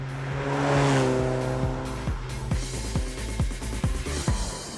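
A 2001 Vauxhall VX220 sports car accelerates hard, its engine note climbing through repeated rising sweeps as it works up the gears, loud and close throughout.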